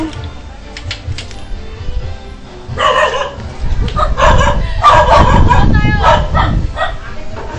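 A dog barks and yips several times amid lively chatter and background noise, the barks growing louder and busier toward the end.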